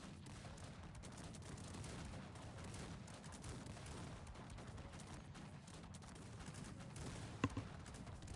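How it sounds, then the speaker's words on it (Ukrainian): Cannon artillery fire in the Cossacks 3 strategy game, a steady dense rumble of battle noise with one sharp, louder shot standing out near the end. "Накидаю гарматами."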